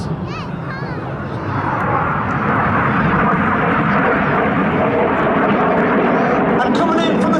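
RAF Red Arrows jets flying the Synchro Heart manoeuvre at the Midlands Air Festival, a loud, continuous roar of jet engines that builds and holds steady as the aircraft pass, with an announcer speaking over it.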